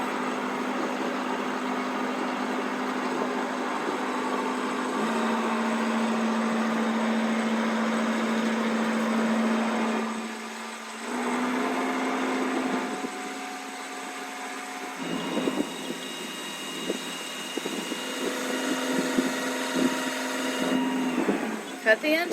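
A sailboat's inboard engine runs steadily at low RPM while anchoring in the Bahamas, giving a continuous mid-pitched drone that dips briefly and returns, heard up close with brief clunks and shifts in tone.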